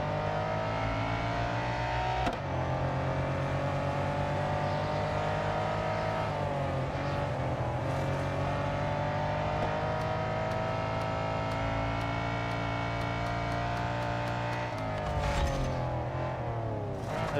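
Race car engines roar continuously during an overtake in the racing game Real Racing 3, a loud, sustained mechanical drone with shifting pitch and a brief gear-change dip near the end.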